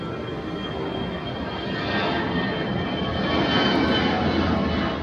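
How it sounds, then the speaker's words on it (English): A propeller airplane passes overhead outdoors in Chiang Mai, Thailand, its steady engine drone growing gradually louder across the clip, alone with no talking. "Here comes the plane."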